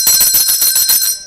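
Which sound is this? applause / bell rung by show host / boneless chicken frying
bell rung by show host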